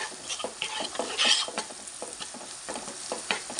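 A spoon stirs cluster beans curry with garlic paste and fresh coriander in a pan, giving repeated scraping and sizzling strokes close up with no talking.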